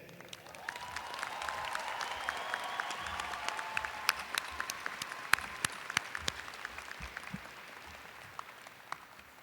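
A large audience at a university doctoral commencement ceremony applauds its newest graduates, a sustained roomful of clapping with sharp individual claps popping out and faint cheers beneath.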